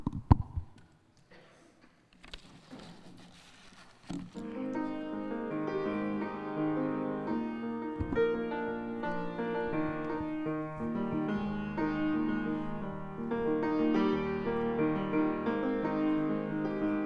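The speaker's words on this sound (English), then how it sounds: "for this project, I'm going to play some of those kind of sounds on a piano." Piano played in a church children's time: after a few soft handling noises, sustained chords and notes ring steadily at moderate volume for over ten seconds, with no talking.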